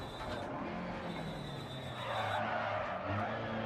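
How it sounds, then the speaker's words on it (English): Lancia Fulvia HF rally car in Dirt Rally on a German stage, skidding through a handbrake turn: steady engine drone with loose gravelly tyre scrub that swells louder and rougher in the second half, no talk. "Using the handbrake a little bit just to try to get that extra little bit of turn."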